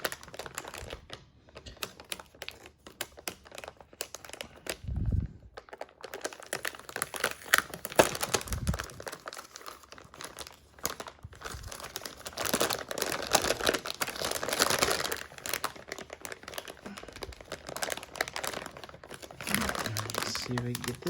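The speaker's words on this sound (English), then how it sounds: "let's go ahead and take a look at what's inside what the card looks like" Packaging for an EVGA GeForce RTX 3080 12GB FTW3 Ultra Gaming graphics card crinkles and rustles as it is opened, with scattered crackling handling noises and a few dull thumps between them, while a voice talks over the unboxing.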